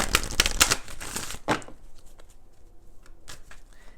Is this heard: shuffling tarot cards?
yes